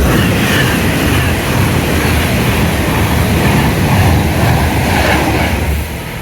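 Train crossing a railway bridge, a loud steady rumble and rattle of rolling wagons close by, easing off slightly at the very end.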